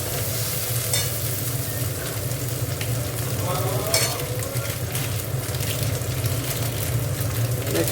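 Spice paste (masala) sizzles and fries steadily in a pan for a cauliflower and potato curry, with occasional scraping stirs over the constant loud crackle.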